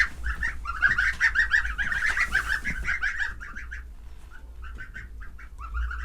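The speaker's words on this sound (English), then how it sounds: "the geese are just running around" Geese honking in a farmyard with ducklings nearby, a dense flurry of repeated calls close by that thins after a few seconds into scattered honks over a low steady rumble.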